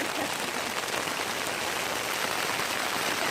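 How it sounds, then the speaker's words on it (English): Heavy rain falling steadily, a dense, even hiss of drops pattering on surfaces with no break. "It's still pouring the rain out."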